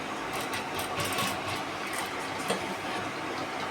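A sewing machine runs steadily, stitching the sleeve onto a cut suit. The busy mechanical whir and chatter continue without a break, close and fairly loud.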